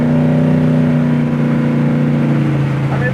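A pro-street 1966 Chevy Nova cruises down the road with a loud, steady engine drone and a strong low hum that holds evenly throughout, without speech.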